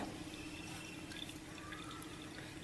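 Water from a tap runs and splashes into a pot as it is washed at a kitchen sink: a continuous, faint trickle with scattered small drips and splashes, and no voices.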